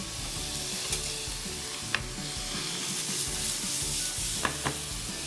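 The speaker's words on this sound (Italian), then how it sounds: "l'hai prima bollito, adesso lo salti un attimo in padella" Boiled pasta sautéed in a frying pan, a close, steady sizzle and crackle with occasional sharp clicks and scrapes of stirring, no voices.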